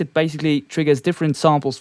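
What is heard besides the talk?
No distinct noise like a dog, phone or traffic.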